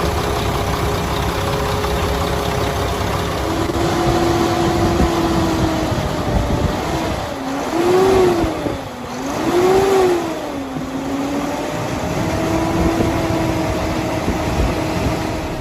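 A 2007 Mack Granite CV713 truck with a 350-horsepower Mack E7 engine runs steadily at idle, loud and close, with a couple of brief swells in engine pitch midway.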